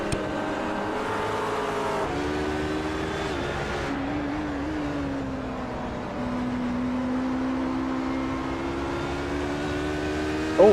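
GT race car engines in an ISRA GTC sim race at Watkins Glen drone steadily in a continuous close pack, pitch shifting through gear changes and rising revs, with no talk.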